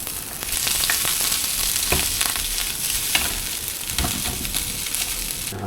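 Garlic sizzles and crackles steadily in hot oil for fried rice, with scattered louder spatters and a few sharp stirring clicks from a utensil against the pan, close and continuous.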